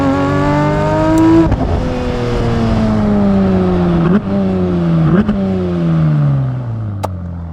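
A Porsche 992 GT3 RS with a RYFT exhaust pulls hard through second gear, its loud, deep, rising engine note interrupted by brief dips at the shifts, heard close and alone.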